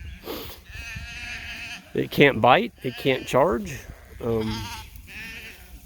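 Sheep and lambs bleat repeatedly during a move of a farm flock, loud, wavering calls close by, with someone talking and shouting over them.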